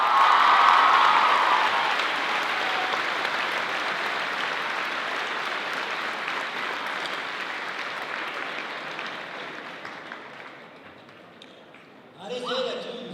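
An audience applauds a speaker at a talk, a full, sustained wash of clapping that slowly thins and fades over about twelve seconds before a single voice starts speaking.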